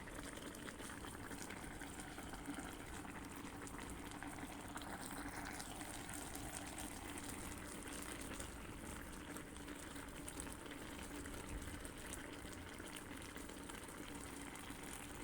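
Pot of frog soup with young tamarind leaves and phak tiu simmering, a faint, steady bubbling and watery churn heard from close by without voices.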